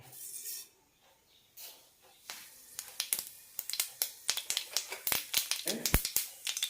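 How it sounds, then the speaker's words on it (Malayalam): Mustard seeds popping in hot coconut oil in a pan, starting quietly, then a rapid series of sharp close crackles and pops that grows denser toward the end. "കടുക് പൊട്ടി"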